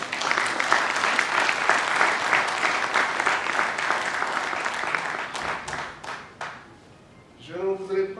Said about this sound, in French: Nous devons l'applaudir.